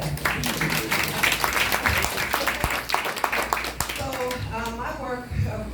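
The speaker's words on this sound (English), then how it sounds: "You can clap for that." An audience at a Brooklyn juice bar event claps for an organizer, scattered sharp hand claps mixed with cheering voices and chatter, with a person speaking toward the end.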